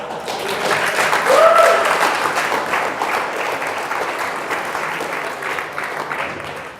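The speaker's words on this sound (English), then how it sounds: "What the fuck are you clapping me," Audience applause at a webinar, a dense wash of clapping that swells near the start and then holds steady, fairly close and loud, with a brief whistle rising over it.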